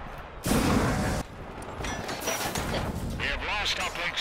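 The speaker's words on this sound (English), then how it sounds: "Defensive turrets activated." Defensive turrets firing in Killzone: Intercept, a loud broadband burst of gunfire lasting under a second, followed by continuous rattling combat noise and chirping effects, with voices speaking under the din.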